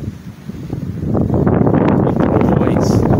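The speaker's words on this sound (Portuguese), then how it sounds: "Do lado aqui do rio existe muito vento, né? Soprando do lado oeste." Strong west wind gusts by a river during a rainy thunderstorm in Santa Bárbara d'Oeste, a loud low rush of buffeting that builds and holds steady.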